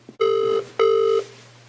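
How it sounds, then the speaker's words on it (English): A telephone ringing on an outgoing call: two steady electronic ring bursts separated by a short pause, clear and close over a faint constant hum, with no voices. "still ringing, Rich."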